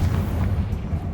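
A Confringo fire spell explodes in the Hogwarts Legacy video game, giving a dense, loud, low rumbling blast that roars steadily through the whole moment with no pause.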